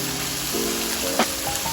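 Carrots and chayote hit a hot frying pan while making pancit bihon, bringing a steady close sizzle with a few soft thumps and a brief clatter as the vegetables drop in.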